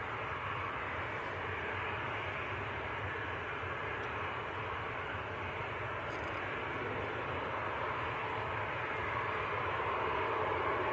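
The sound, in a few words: airliner departing to Fuerteventura, Canary Islands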